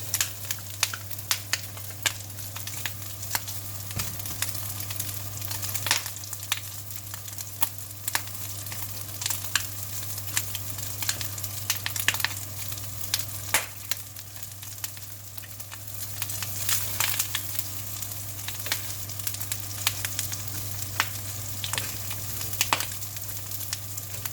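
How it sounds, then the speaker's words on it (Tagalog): Onion sautéing in a pan for pakbet, a continuous close sizzle with sharp crackles and occasional stirring clicks, no talk. "Gigisahin natin yung onion"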